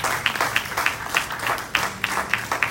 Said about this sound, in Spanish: Dale un fuerte aplauso al Señor en esta hermosa mañana.